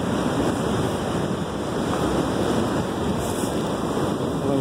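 Ocean surf at Costa da Caparica beach washes in a continuous broad roar, loud and close, mixed with wind buffeting.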